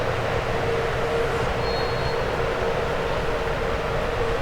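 An airport terminal people-mover train arrives, a steady, loud rumbling roar of rolling wheels with a brief high squeal partway through.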